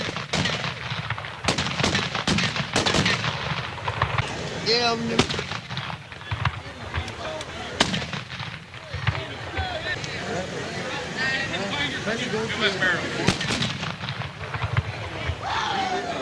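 Guns fired for New Year good luck in a long-running tradition: repeated loud shots and booming reports crackle throughout, with people talking over the noise.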